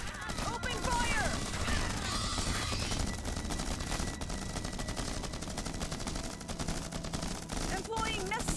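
Gunfire in the sci-fi strategy game Starship Troopers: Terran Command during an urban battle: dense, continuous rattling bursts of automatic fire mixed with game voices and effects, loud throughout.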